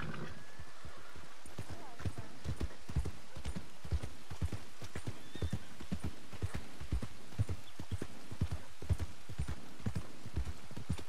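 Horse hooves clip-clopping at a steady walking rhythm in Red Dead Redemption 2, a long regular series of distinct hoof strikes, fairly quiet and close, with no talk over them.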